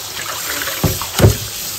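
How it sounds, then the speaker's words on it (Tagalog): Shrimp being rinsed by hand in a basin of water, with gentle sloshing and two distinct splashy swishes close by, no talk over the sound. "Hugasan ko na po ito. Hanggang sa luminaw po yung tubig."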